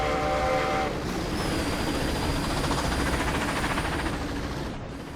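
A diesel locomotive in the Roblox game 1946 Railroading rumbles past with a steady, loud engine drone and rolling rail noise, and a high horn-like tone sounds over it through the middle before the noise slowly fades.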